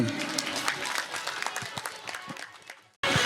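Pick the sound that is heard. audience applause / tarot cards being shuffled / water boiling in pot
audience applause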